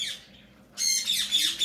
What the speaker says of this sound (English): Quaker parrots are very, very affectionate, very, very social creatures